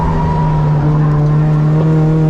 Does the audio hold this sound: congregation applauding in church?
no